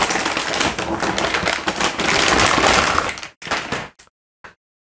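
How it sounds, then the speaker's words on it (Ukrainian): Crinkly plastic packaging around an ASUS GeForce RTX 4060 Ti graphics card rustles and tears through the first few seconds, close and loud, then breaks into a few short crackles before falling quiet. "Відкриваємо цей пакет."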